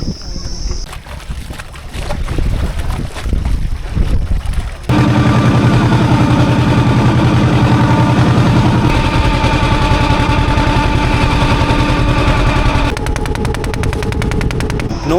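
A river ferry's engine thrums loud and close as the boat crosses a wide, high-tide river toward Mousuni Island, a steady mechanical drone that swells to a constant roar after a rougher, choppier opening.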